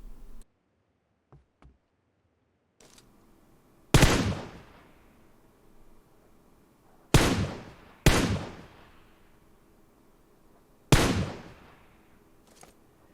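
Gunfire at training targets in PUBG Mobile: four sharp, loud shots that ring out with a decaying tail, coming at uneven intervals, with a few faint clicks before them and no talking.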